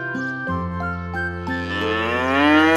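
A cartoon cow lets out a long, loud, harmonic moo that rises in pitch toward the end, heard alone in an animated children's farm scene.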